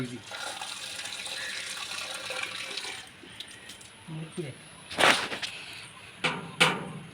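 Tap water runs over fish being washed at a sink, a steady splashing stream that stops partway through, followed by a few sharp splashes and clatters with brief voices between them.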